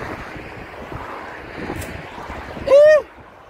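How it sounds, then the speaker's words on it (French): Steady wind noise rumbles across the microphone during a storm on a bike ride, with a brief high whistling tone near the end. "Je sais même pas si vous entendez avec tout le vent qu'il y a"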